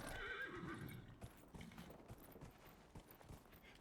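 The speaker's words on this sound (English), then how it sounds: "Whoa, horsey!" A horse in Dragon Age: Inquisition whinnies loudly at the start, then its hooves clip-clop in quick galloping beats, close and clear with no talking.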